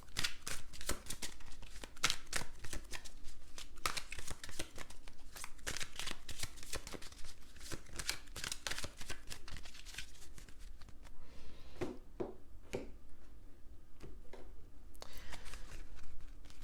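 A deck of tarot cards is shuffled continuously up close, a dense, steady riffling and flicking of card stock that thins into a few sharper separate taps near the end.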